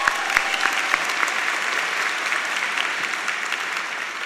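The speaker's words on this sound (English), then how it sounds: "So just give everybody a round of applause." Loud, dense applause fills a hall at a spring 2017 Landmark College commencement ceremony, a few sharp claps at the start before the crowd settles into a sustained, even roar of clapping.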